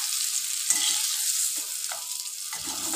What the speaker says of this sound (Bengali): এবং আলুটা ভেজে আপনাদের দেখাচ্ছি।